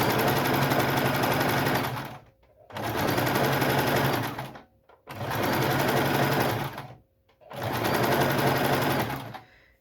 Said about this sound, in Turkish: kenarları birbirine şöyle denk gelecek şekilde normal dikiş yapıyoruz